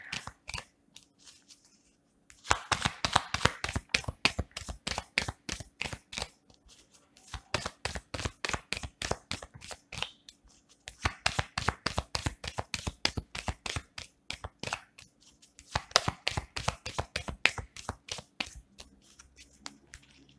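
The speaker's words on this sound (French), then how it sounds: "je reprends mes cartes et je vais compléter le tirage en tirant une carte de chaque côté" Playing cards shuffled and drawn for a tarot-style card reading, with dense bursts of rapid riffling clicks and slaps in several rounds, close and fairly quiet, separated by short pauses.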